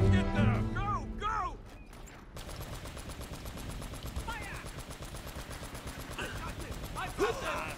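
Rapid gunfire from the video game Uncharted: Drake's Fortune, dense automatic bursts rattling steadily after shouted voices, continuing with occasional louder shots near the end.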